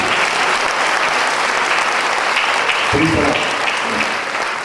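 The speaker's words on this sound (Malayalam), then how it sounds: "കൈയടിച്ച് കർത്താവിനെ സ്തുതിച്ചു." A church congregation claps together in praise, a loud sustained wash of applause with a brief voice rising through it near the end.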